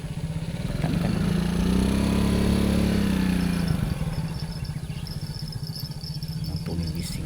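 A loud motorcycle engine runs steadily on a riverbank, swelling briefly in pitch and volume before settling back to a rough, continuous idle with a faint whine above.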